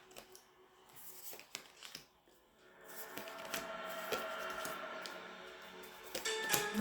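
Tarot cards being shuffled by hand, a soft papery riffling and flicking that starts quietly and turns into a steady, denser stream of card noise toward the end.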